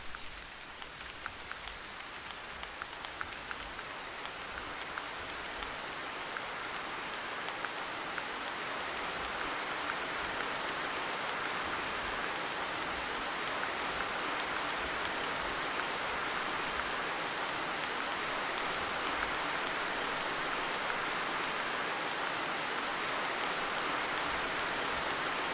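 Rain falling among pine trees below a cliff in the hunting game theHunter, a constant hiss of drops on surfaces that is fairly soft and builds slightly after the first few seconds, with no speech.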